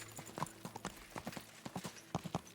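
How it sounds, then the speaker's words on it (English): Horse hooves clip-clop in a quick, uneven rhythm on a road in Kingdom Come: Deliverance 2, fairly close and steady with no voices over them. "if you heard a horse galloping down the road"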